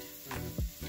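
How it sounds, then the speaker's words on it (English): Tamarind pulp goes into a hot pan, bringing a brief surge of sizzling and a soft splashy thump over a continuous close frying hiss. "And now go ahead and add this tamarind"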